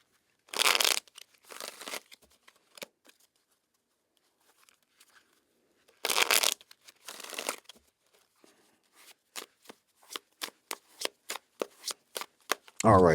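A deck of tarot cards being shuffled in close, crisp riffling bursts, long flurries at first and then a run of quick separate snaps, with quiet gaps between.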